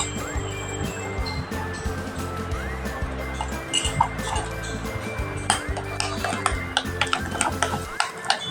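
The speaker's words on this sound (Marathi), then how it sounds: "हे आता चमच्याने हलवून घ्यायचं किंवा हाताने हलवलं तरी चालतं" A spoon stirs urad dal vada batter in a bowl, a close rhythmic scraping and clinking that repeats steadily throughout, with faint background voices and kitchen noise under it.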